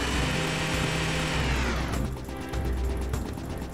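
A circular saw weapon in the Serious Sam 2 video game whirs with a dense, grinding mechanical roar that shifts pitch partway through, loud and continuous with no talking.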